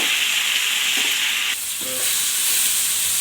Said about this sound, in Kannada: ಟೊಮೊಟೊ ಸ್ವಲ್ಪ ಚೆನ್ನಾಗಿ ಹಾಗೆ ಚೆನ್ನಾಗಿ ಇದರಲ್ಲೇ ಹುರ್ಕೋಬೇಕು